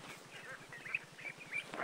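Khaki Campbell ducks give soft, faint quacks and low calls in a short village scene, with a few sharp chirps close by and a quiet voice in the background.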